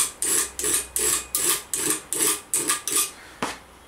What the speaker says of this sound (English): Get your ball peen hammer, work it round a couple of times.